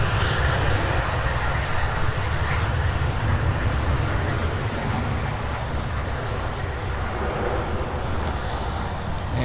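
A jet departing runway 12 right at MSP, Minneapolis–Saint Paul airport, rumbles with a steady, loud engine roar throughout, a few faint clicks near the end.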